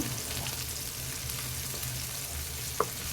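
Sankara fish fry sizzles steadily in hot oil in a pan, a dense, even crackle throughout with a single sharp tick near the end.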